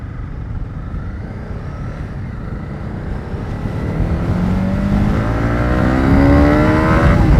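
A 2019 Honda CB300R motorcycle pulls hard toward redline on a highway, its engine note climbing steadily in pitch and growing louder over rushing wind, without any talk.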